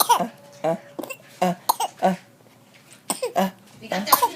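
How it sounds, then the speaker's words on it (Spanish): A person breaks into a fit of coughing during a bloopers session, a string of short, sharp coughs and throat clearing in quick bursts, close and fairly quiet. "Le dio tos."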